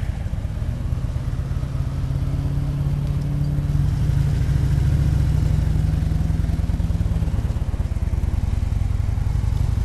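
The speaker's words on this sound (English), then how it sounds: "Having to push start my bike." A Harley motorcycle engine being push started, a loud, steady low mechanical rumble with clattering that continues throughout without speech.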